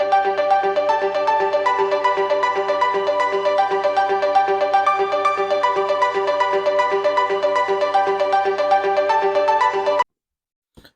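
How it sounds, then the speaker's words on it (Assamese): An incoming call sets off a phone ringtone, heard in a wedding procession setting as a steady, loud, looping electronic melody for about ten seconds before it cuts off abruptly into silence. "দৰা ভায়েকৰ ফোন আহিলে"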